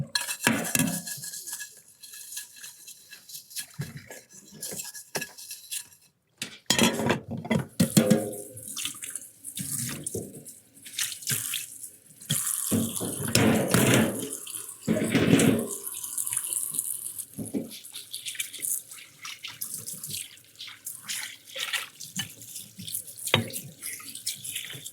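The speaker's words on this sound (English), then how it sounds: "I got to get these dishes done in real time." Dishes are washed at a sink under running tap water, with steady water flow broken by clinking cutlery and clattering pots and plates, close and busy, with no one talking.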